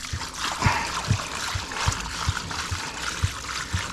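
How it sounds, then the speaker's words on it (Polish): Water splashing and trickling steadily, poured into an Ursus Zetor tractor while filling up, with low rhythmic thumps underneath, recorded close in a noisy setting. "Lej pan wodę"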